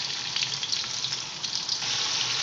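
Loud, steady sizzling of onions frying in a hot pan, a dense crackling hiss up close with no one speaking.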